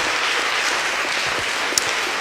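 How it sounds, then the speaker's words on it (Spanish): A church congregation applauding, dense even clapping from many hands that holds steady throughout, with a faint voice briefly underneath. "¿Cuántos dan una alabanza de palmas al Señor?"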